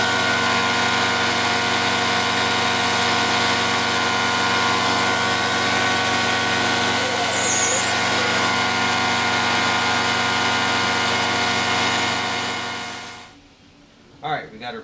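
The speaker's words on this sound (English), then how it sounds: "It's probably about 30 minutes or so kind of feeding it through the sander" A large live edge wood slab being fed through a sander to flatten it, with a steady, loud machine roar that holds for about thirteen seconds and then cuts off abruptly, leaving faint handling noises.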